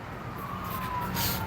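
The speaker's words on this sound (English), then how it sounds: "You hear the cops, you hear the police cars" A police car siren wails somewhere in town, a distant rising and falling tone over a low traffic hum with no talking.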